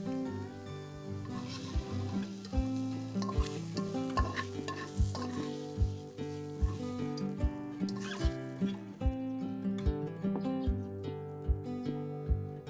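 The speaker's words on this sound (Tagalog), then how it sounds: "Once sauteed, remove the meat from the pan." Pieces of pork sauté in a pan for a Filipino-style white bean stew, sizzling and being stirred beneath louder, rhythmic background music.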